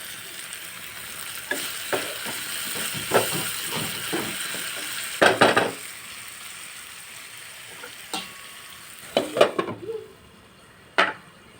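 A tempering of spices sizzles steadily in a pan for fish curry, a soft continuous frying hiss broken by repeated clinks and scrapes of a spoon stirring against the pan.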